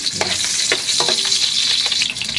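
Chopped garlic and onion hit hot cooking oil in a pan, a loud, close, continuous sizzle and crackle with a few stirring scrapes, no voices.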